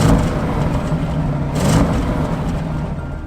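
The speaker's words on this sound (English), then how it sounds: "Under the bonnet you'll find a 4-litre V8 twin-turbo engine that churns out 600 horsepower" An Audi RS7 with a 4-litre twin-turbo V8 producing 600 horsepower runs with a loud, steady, deep engine roar that swells slightly midway and then settles again.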